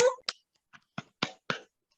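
Students in a classroom clap for a group, about six sparse, sharp hand claps spaced irregularly and fairly close by, with quiet gaps between them.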